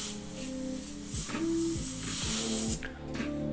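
A spray paint can hisses steadily and loudly up close while graffiti is painted, a sustained airy spray with faint tonal whines underneath that cuts off near the end.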